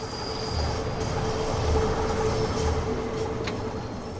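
London Underground 1972 tube stock train on the Bakerloo Line in the game Train Sim World 2, rumbling steadily as it runs, with a faint high whine and a brief wheel squeal late on.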